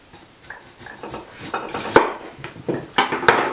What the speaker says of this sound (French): commencez par couper l'endroit où il y a les pousses, donc à l'opposé des racines, donc environ des tranches d'un demi centimètre